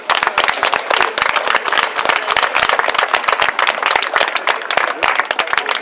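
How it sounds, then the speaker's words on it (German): Audience applause at the Festival der Nationen, dense continuous clapping from a crowd, loud and steady throughout with no talk over it. "und herzlichen Applaus für sie."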